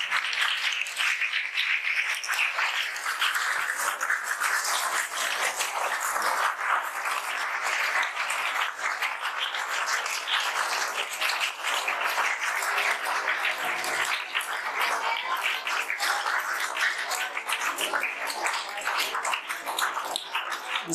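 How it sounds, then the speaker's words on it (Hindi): Sustained audience applause in a hall at a school Eid e Milad un Nabi celebration, dense steady clapping from many hands continuing evenly for about twenty seconds with no talk. "आपकी भरपूर तालियों में"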